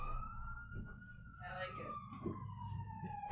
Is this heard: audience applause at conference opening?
no